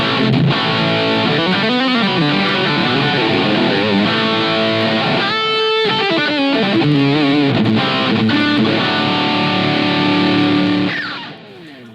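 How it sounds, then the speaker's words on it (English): A distorted electric guitar lead through a Yamaha THR amp on the Brown One model, based on a late 70s to early 80s amp, plays with delay: sustained bending notes and fast runs ringing loudly, fading out at the end. "So we're sticking with the same amp model here, which is Brown One"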